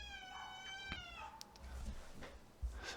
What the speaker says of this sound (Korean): 고양이가 웁니다.